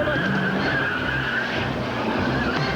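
Illegal street-racing cars skid and tear away as police arrive, tires squealing loudly over roaring engines in one continuous burst, with voices faintly mixed in.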